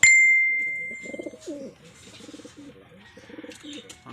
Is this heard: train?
no